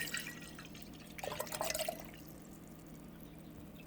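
Water pours briefly into a kombucha brewing jar, a short splashing trickle that fades into quiet room noise.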